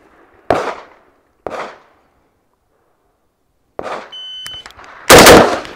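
Sharp, loud gunshots at an outdoor shooting range: four separate reports spaced unevenly over a few seconds, the last the loudest and closest, each with a short echoing tail and no talking between them.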